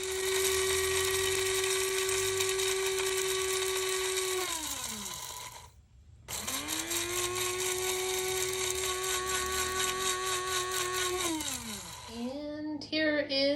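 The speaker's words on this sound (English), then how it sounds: "And now I'm going to grind this into powder." An electric grinder whirs loudly as it turns dried tiny peppers into powder. The motor runs steadily, winds down and stops, then starts up again and spins down once more.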